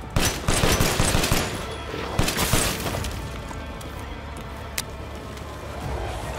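Rapid pistol fire in Resident Evil Village, a dense burst of loud, quick shots over the first few seconds followed by a second short volley and a lingering noisy game backdrop.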